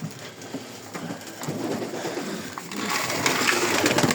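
Homing pigeons coo softly at close range in a loft, with low cooing mixed among rustling and light clatter, the activity growing busier toward the end.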